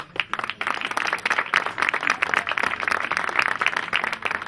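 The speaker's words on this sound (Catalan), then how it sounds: "És digne d'un aplaudiment per tots vosaltres" A hall audience at a commemoration of the Pacte dels Vigatans and literary prize ceremony applauds continuously, a dense, even rattle of many hands clapping close by with no talk over it.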